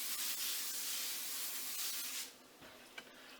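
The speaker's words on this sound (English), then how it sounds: "I could use some practice lining a pan, nice, with tin foil" Aluminum foil crinkles and rustles up close as it is pressed into a baking pan, a steady soft scrunching that trails off into a few faint crackles.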